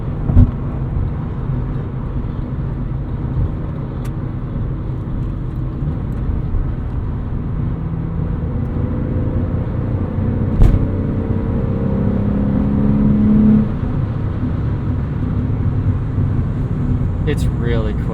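A 2002 Porsche 911 sports car with a six-speed gearbox cruises at highway speed, its engine a steady low drone under road rumble while someone talks throughout.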